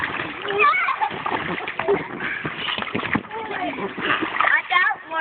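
A big splash into water on a hot day, with churning, splattering water mixed with excited children's voices and chatter throughout.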